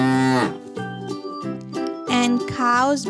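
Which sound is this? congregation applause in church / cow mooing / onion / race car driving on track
cow mooing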